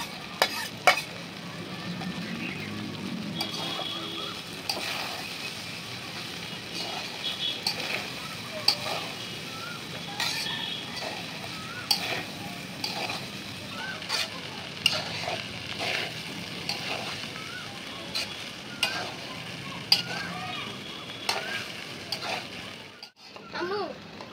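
Fried rice is stir-fried in a pan with pieces of fried chicken and fried egg, giving a steady close sizzle broken by frequent scraping and clattering stirs of a spatula that continue throughout.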